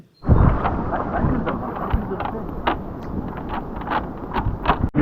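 A storm on the coast fills the air with a loud, continuous roar of wind buffeting the microphone, rumbling low and broad with occasional gusts and sharper knocks.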